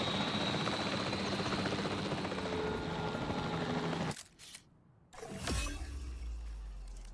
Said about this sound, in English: I can fly around in a helicopter